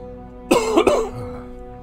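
A man with an esophagus problem coughs in a short burst of two or three harsh, close coughs, followed by a faint throaty sound.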